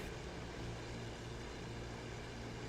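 A propeller airplane engine drones steadily and loudly at takeoff in a flight simulator video game, a dense continuous roar that fills the whole stretch with no voices.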